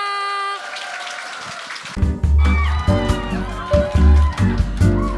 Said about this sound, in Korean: 이렇게 열렬히 환호해 주셔서 너무 감사합니다.